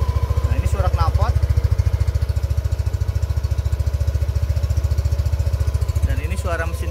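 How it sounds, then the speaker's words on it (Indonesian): Close-up exhaust of a Yamaha Aerox 155 scooter idling with a rapid, even chugging pulse; a person talks briefly over it at the beginning and end. "Nah ini suara knalpot"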